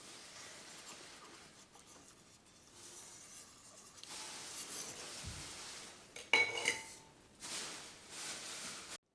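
A metal spoon scrapes cooked desi-style pudding around a pan and into a separate bowl, with soft repeated scraping and a few sharp clinks of utensil on metal, close and fairly quiet.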